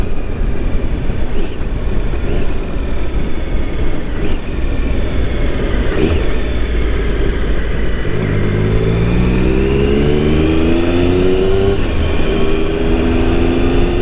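Motorcycle ridden around the Billown road circuit on the Isle of Man, its engine and wind roar loud and steady throughout, with rising engine tones as it accelerates near the end.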